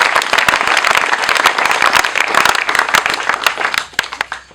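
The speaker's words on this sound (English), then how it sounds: "Let's clap for them again." Loud, close audience clapping at a Rotary Club project handover ceremony, dense and continuous before thinning out toward the end.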